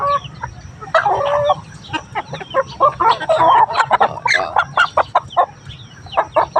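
Chickens cluck in a steady, busy stream of short calls from several birds close by, with a few louder squawks standing out.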